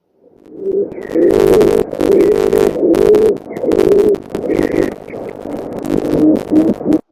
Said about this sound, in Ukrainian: А цей спів відгадали? Молодці, це голуб.